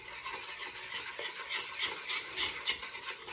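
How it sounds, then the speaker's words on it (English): A spoon stirs milk into dry chocolate pudding mix in a bowl, a soft, steady scraping swish with gentle rhythmic strokes, close and quiet, no voices. "I'm going to pour just a little bit in and stir it up and just like kind of get that milk like incorporated a little bit with the dry ingredients"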